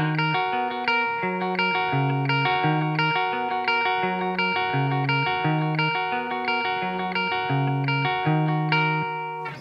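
Fender Tom DeLonge Starcaster electric guitar played through an overdriven amp channel, a steady run of picked chords and notes with a constant driven tone, close and loud throughout with no talking.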